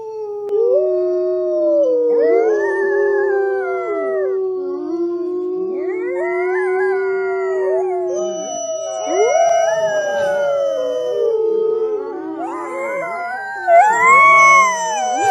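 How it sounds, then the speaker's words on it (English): Arctic wolf pups and adult wolves howl together in a loud, sustained chorus, long rising and falling wavering tones overlapping in several voices with higher yips joining near the end, no talking. "Arctic wolf pups howling with their parents."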